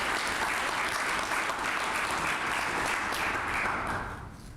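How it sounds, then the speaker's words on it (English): A 2015 press conference audience applauds a high school basketball inductee, with steady, full clapping from a crowd that fades out near the end. "let's have a round of applause for Paintsville High's John Lee Pelford"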